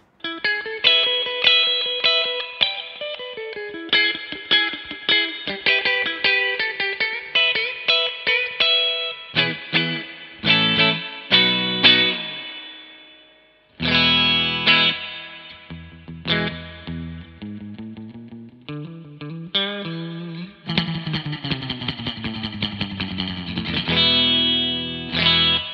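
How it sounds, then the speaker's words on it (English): Clean Fender Stratocaster playing surf-style lines through the spring reverb of a Fender Hot Rod Deville 212 amp set about a third up, bright picked notes and chords with splashy reverb tails, loud and continuous with brief pauses. "It's a spring reverb, and I'll put it up about, I don't know, a third of the way, and do some kind of surfy stuff on again on a clean Strat"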